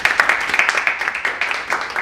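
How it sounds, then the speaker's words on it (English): A small audience claps at a panel discussion event, a short burst of scattered, fairly close hand claps with an uneven patter and no voices. "So round of applause for Sam."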